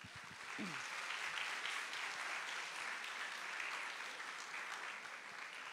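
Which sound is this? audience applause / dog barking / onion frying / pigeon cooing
audience applause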